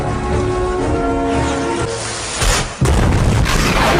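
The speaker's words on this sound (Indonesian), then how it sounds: "Suara meriam itu sangat keras hingga memekakkan telinga dan langsung membuat tembok berlubang" A huge Basilica cannon fires during the 1453 siege of Constantinople, a single loud, deep boom bursting out near the end after a stretch of steady rumbling background noise.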